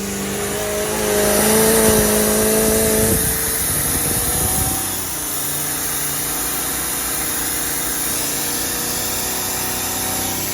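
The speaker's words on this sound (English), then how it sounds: "Okay, we got it running." The port side engine of a Bertram 28 boat, just repaired but with a stuck throttle, running loud and close, rising to a higher rev before settling into a steady lower idle hum.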